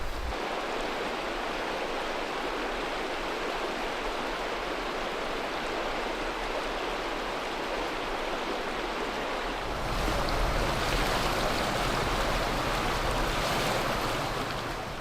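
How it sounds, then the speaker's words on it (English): A steady, broadband rush of flowing water, loud and continuous, swelling a little stronger partway through with no voices. "Oh, how sweet the sound of the river."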